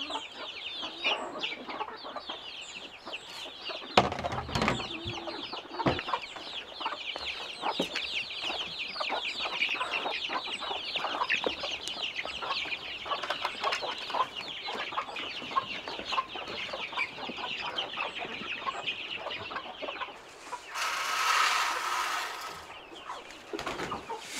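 Several chickens cluck and murmur nearby at morning feeding in northern Sweden, with scattered louder squawks, steady farmyard chatter throughout, then a short burst of rushing noise near the end.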